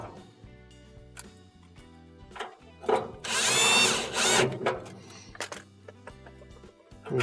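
A power screwdriver whirs in a short, loud burst as it drives screws into a Whirlpool dryer during a thermistor and thermal fuse repair, with quieter clicks and handling noises before and after.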